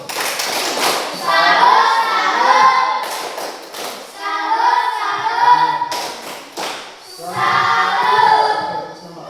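Schoolchildren in an Indonesian classroom perform the 'tepuk salut' clapping routine, rhythmic bursts of claps and taps in repeated phrases broken by short pauses, with children's voices chanting along throughout.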